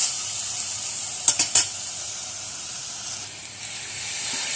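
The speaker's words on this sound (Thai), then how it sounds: "เราก็คั่วหมู ให้สุกนะคะ" Minced pork stir-fries in a pan for larb, a steady soft hiss and sizzle broken by a few brief sharp scrapes or clicks of a utensil early on, fairly close and with no voices.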